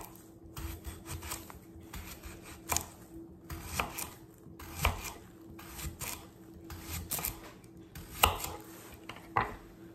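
Repeated knife strokes chopping on a board, irregular thuds and scrapes spaced about a second apart, close and clear with no talking.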